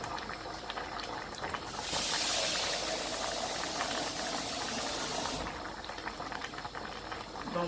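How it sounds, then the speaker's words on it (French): Water pours into a simmering pot of vegetable broth on a stove, a loud, steady rushing hiss that swells for several seconds over the bubbling simmer, then falls back to a softer boil. "Je vais rajouter encore un peu d'eau."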